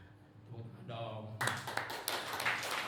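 Applause from a seniors' prayer fellowship audience erupts after a speaker's voice, a dense burst of clapping that sustains to the end.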